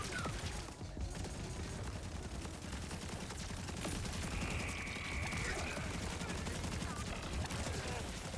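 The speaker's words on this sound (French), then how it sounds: "J'ai un pistolet électrique, ça fonctionne bien." Electric pistol fire in Borderlands 4 crackles in dense rapid bursts amid a busy mix of game effects, steady and loud throughout with muffled voices underneath.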